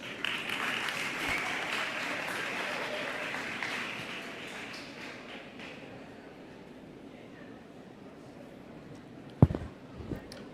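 Audience applause at a dental school white coat ceremony, a broad steady wash of many hands clapping that gradually thins and fades over ten seconds, with a couple of sharp knocks near the end.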